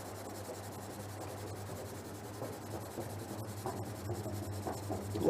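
Graphite pencil drawing on fine tooth paper, a soft, close scratching and rubbing with short repeated strokes over quiet background hiss, getting slightly louder at the end.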